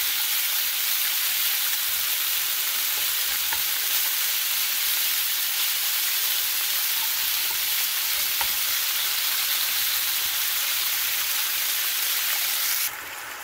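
Ground meat sizzling steadily in a pan for taco rice, with a spatula stirring and separating the pieces now and then; close and loud, with an even broad hiss and no voices.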